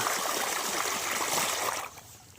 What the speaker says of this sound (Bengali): এই দেখো জল বেরোচ্ছে, দেখছো বন্ধুরা?